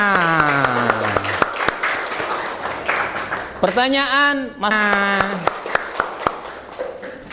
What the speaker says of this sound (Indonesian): Oke, kasih tepuk tangannya.